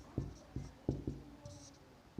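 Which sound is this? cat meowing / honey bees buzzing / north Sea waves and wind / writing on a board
writing on a board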